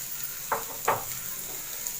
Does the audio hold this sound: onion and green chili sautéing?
yes